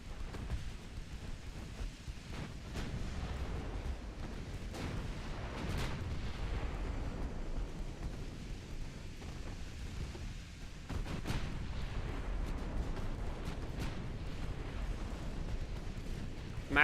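Thirteen-inch naval guns on a massive battleship firing in a video game, heard as steady heavy rumbling booms and distant thuds under a continuous low roar, with no talking.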